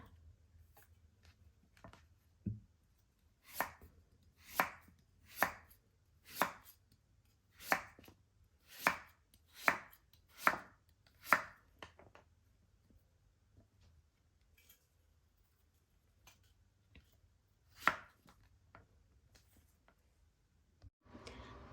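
Pumpkin is chopped into pieces with a knife on a board, about a dozen crisp, evenly spaced chops in a quick run, then a pause, one more chop and a faint final knock, close and clear in a quiet kitchen.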